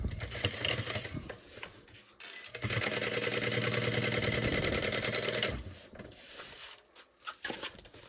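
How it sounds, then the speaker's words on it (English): A sewing machine stitches down the middle of a fabric backpack piece, running in a rapid, even mechanical rattle for about three seconds, with quieter handling clicks and short bursts before and after. "I'm going to sew down the middle here"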